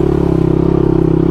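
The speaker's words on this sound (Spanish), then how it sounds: "esta es mi primer moto de esta cilindrada, una 250" A Kawasaki KLR250 dual-sport motorcycle rides a single-track trail, its 250 cc single-cylinder engine droning loud and close in a constant, fast-pulsing buzz with no speech.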